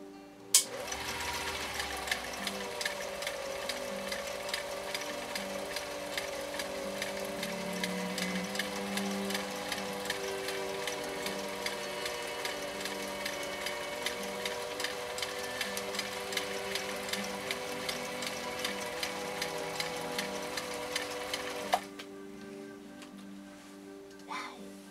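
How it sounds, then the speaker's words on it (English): A 1955 Viking Type 21 sewing machine, a Swedish 1.5 amp model, runs in its slow gear sewing a compressed zigzag through acrylic fiber: a steady, close mechanical whir with even rhythmic ticks for about twenty seconds, then stopping abruptly. "our second line of stitching on this acrylic fiber with a compressed zigzag using the slow gear"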